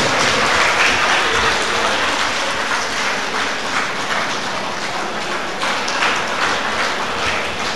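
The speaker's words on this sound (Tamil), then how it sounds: "நல்ல பலமா கைத்தட்டு" Loud, dense applause from an audience at a Tamil Nadu Science Forum event welcomes a guest onto the stage, sustained hand-clapping continuing evenly without pause and no voices rising above it.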